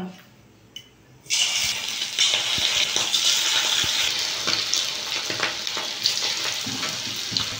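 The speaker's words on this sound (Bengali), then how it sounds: "তেলটা গরম হয়ে গেছে, আমি মাংসটা মাখিয়ে রেখে দিয়েছিলাম," Marinated chicken pieces drop into hot white oil in a wok for chilli chicken; after a brief quiet start, a loud, dense, steady sizzle and crackle takes over and runs continuously to the end.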